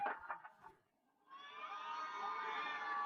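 Crowd cheer effect played through a party speaker: a brief synthetic whoop first, then a swelling burst of cheering voices that holds to the end, fairly faint.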